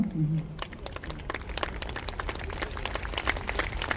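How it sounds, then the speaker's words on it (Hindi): A chamber of commerce members' annual meeting audience breaks into sustained applause, a dense, even roar of clapping hands that follows a brief voice at the start. "आपकी तालियों के गड़गड़ाहट से ऊर्जा का संचार होता रहना चाहिए"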